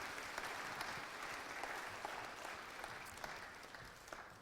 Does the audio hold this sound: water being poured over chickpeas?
no